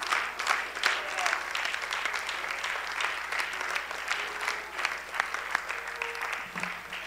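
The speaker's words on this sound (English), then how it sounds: "Everyone clap your hands." A church congregation claps hands together at a worship service, a quieter, steady patter of clapping with voices and tonal music faintly underneath.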